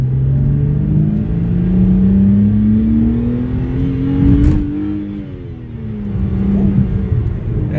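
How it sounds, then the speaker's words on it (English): A car engine revs hard under acceleration, pitch climbing steadily over several seconds, easing off, then surging again, loud and close from inside the car. "I gave it a little bit too much gas that time."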